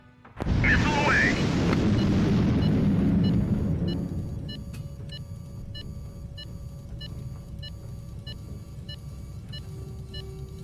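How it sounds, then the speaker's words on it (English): A missile launches in the video game HighFleet with a loud, broad roaring whoosh that swells for about three seconds, then fades into a steady low rumble under regular electronic beeps. Voices are heard alongside it. "Missile away!"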